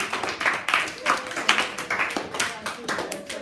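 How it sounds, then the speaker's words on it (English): A classroom of students gives a round of applause after a review lesson, with loose, uneven clapping coming in rhythmic bursts, fairly close and moderately loud, while a few voices murmur underneath. "let's give Lavian a round of"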